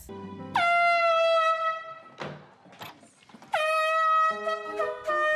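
A handheld air horn noisemaker sounds like a foghorn, blaring two long, loud, bright blasts a couple of seconds apart, with scattered thumps and clatter in the gap between them.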